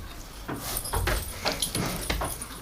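A dog whimpers and fusses close by outdoors during winter farm chores, with short whines and rustling scuffs that come in quick irregular bursts and no talk.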